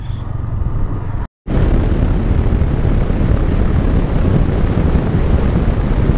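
A motorcycle ridden fast in racing style along a long-distance highway route in Bangladesh, a loud, continuous low engine and wind roar close to the rider, with one brief cut to silence early on.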